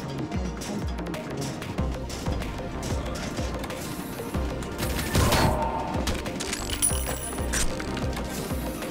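Gunfire from the Ion Fury shooter game, dense and continuous, with sharp shots bursting over a busy mix of game effects and music; a louder volley stands out midway.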